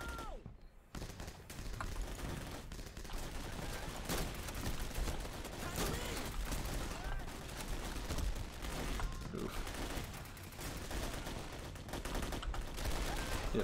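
Near-continuous gunfire and bursts of automatic weapons fire fill a Vietnam War video game firefight, loud and dense throughout with occasional talk mixed in.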